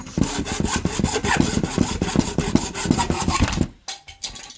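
A motorcycle part for a stunt-prepped 125 CBR is cut while clamped in a vise, with a rapid rhythmic rasping saw stroke repeating for several seconds, then stopping abruptly with a few fainter strokes after.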